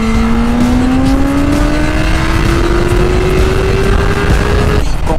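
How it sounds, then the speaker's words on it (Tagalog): A BMW S1000RR sport bike accelerates hard in first gear, its engine note climbing steadily in one long loud pull heard from the rider's position with wind noise, before it eases at the end. "Kung naka-full exhaust lang sana tayo tulad nitong mga tunnel na to, ripping talaga tong bike na to."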